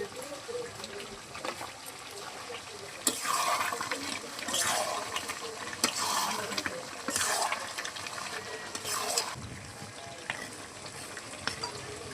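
Water is poured into a pot of browned meat and fried potatoes cooking over a clay stove, splashing and hissing in several bursts over a steady low sizzle, close and moderately quiet.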